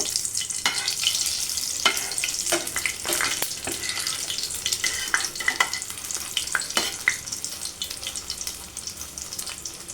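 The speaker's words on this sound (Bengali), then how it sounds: "আমি চিকেন প্যাটিগুলোকে একটুখানি ভেজে নেব" Chicken patties sizzle and crackle steadily in hot oil, with occasional sharp pops and a few stirring scrapes close by.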